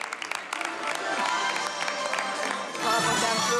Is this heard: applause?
yes